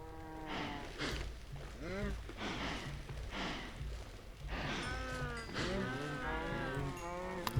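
Minecraft cows moo repeatedly in a pen, several drawn-out bovine calls overlapping one after another at moderate volume, with a voice talking intermittently among them.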